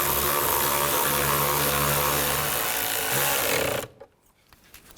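Power screwdriver tightening screws into the inner door panel of a 2000-06 GMC Yukon during a front inner door handle replacement, a loud continuous whirring drive that runs for several seconds and then cuts off abruptly.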